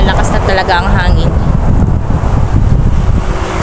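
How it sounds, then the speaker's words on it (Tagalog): Steady, roaring wind ahead of heavy rain buffets the microphone throughout, a broad continuous rush with a voice speaking briefly near the start. "Talaga ang hangin."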